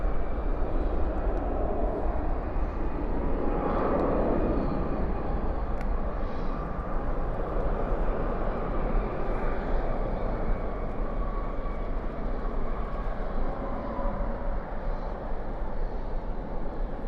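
Airliner landing at night at Dallas Fort Worth airport with spoilers up and thrust reversers deployed, a steady broad distant roar and rush that holds level throughout with no talk.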